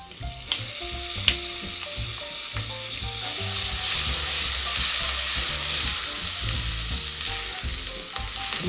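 Garlic frying in rendered bacon fat with no oil added, a continuous close crackling sizzle with occasional sharp pops and stirring, steady and loud without speech.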